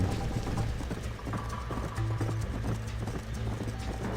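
Horse hooves in the video game Red Dead Redemption clip-clop at a steady walking pace, close and continuous, with faint ambient noise behind them.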